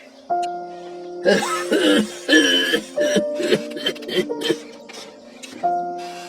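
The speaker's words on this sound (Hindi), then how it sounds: "आपको बहुत खांसी भी आ रही है" A string of harsh coughs, several in quick succession with brief pauses between, close up and fairly loud, over a faint background tone.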